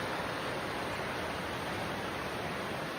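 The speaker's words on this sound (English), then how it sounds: "It's a creek. It's not a stream. It's not a river. It's Swift Creek." Swift Creek at a trail crossing below a mountain meadow: continuous broadband rush of flowing water, steady and close, with no other sounds.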